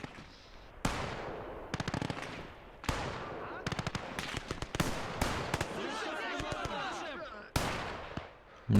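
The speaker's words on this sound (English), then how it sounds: "My 45 is shooting into the point, which is lovely." In the WWII game Gates of Hell: Ostfront, a Soviet 45mm gun fires amid sharp bursts of battlefield gunfire, with repeated loud cracks and rattling volleys spaced through the scene under continuous combat noise.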